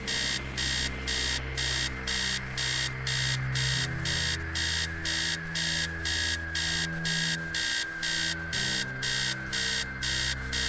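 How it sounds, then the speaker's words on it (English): An alarm clock blares in the Stories Untold horror video game, rapid pulsing electronic beeps repeating in a steady rhythm, loud and continuous over a low droning game soundtrack. "Upstairs, the sound of an alarm clock blaring."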